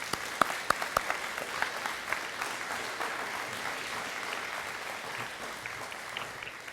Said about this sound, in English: Let's give one more round of applause to all of the crowd.